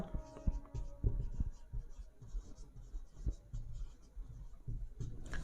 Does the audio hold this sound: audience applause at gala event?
no